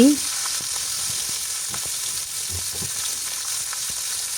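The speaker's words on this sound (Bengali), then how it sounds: "এখন ভেজে নিচ্ছি" Small pieces of a big fish head fry in hot oil, giving a loud, steady, close-up sizzle with a few soft stirring knocks and no talking.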